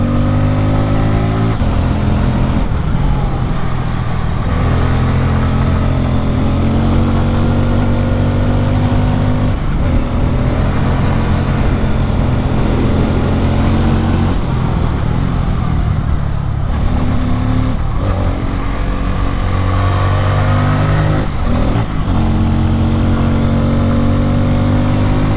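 Bajaj Pulsar motorcycle ridden hard on the road. Its engine is loud and close, revving up and down through several gear changes in a steady throaty drone, with no talking.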